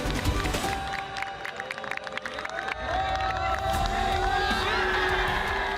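Golf spectators cheer an eagle at the 10th hole, a loud sustained roar of crowd noise and shouts that swells toward the end and fills the whole stretch.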